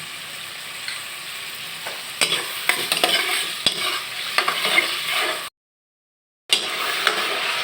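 Chopped onions frying in soybean oil with salt, a continuous sizzle broken by repeated spoon scrapes and stirring clacks, then a brief full silence before the frying resumes.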